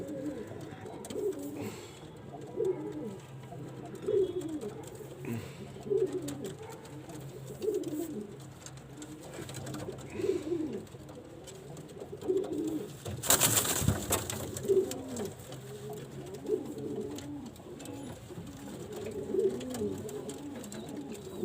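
Pigeons coo repeatedly in low, rolling phrases, several birds nearby, with a brief burst of rustling partway through.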